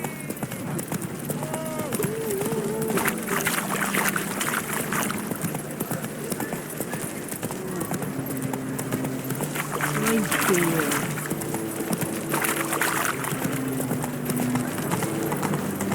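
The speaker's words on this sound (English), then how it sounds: "Whoa there, Roach." Horse hooves clip-clopping in The Witcher 3: Wild Hunt near Novigrad, a steady rhythmic trot under game music and brief character voices, with splashing or creaking sounds mixed in partway through.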